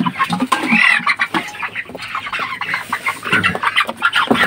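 A young broiler chicken clucks and chirps continuously while being weighed on a poultry farm, close and fairly loud, with busy overlapping calls and no talk.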